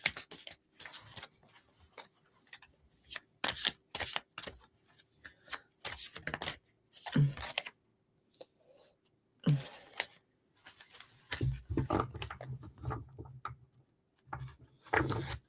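Tarot cards are shuffled and cut by hand in quiet, irregular bursts of riffling and soft taps, with short pauses and a longer, denser flurry near the end.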